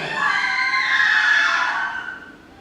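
Several women cry out together in a shrill, sustained shriek during a night scene of a Macbeth audio drama, loud and close, swelling and then fading over a couple of seconds.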